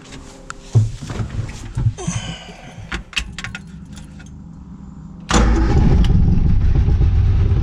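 A 1966 Austin Healey Sprite with a new fuel line and fuel pump goes from scattered clicks, clunks and a key jangle into a loud engine start, then settles into a steady, close, rumbling run.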